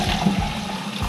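Water is poured from a cup over an RC car, splashing and trickling steadily at close range in a short burst.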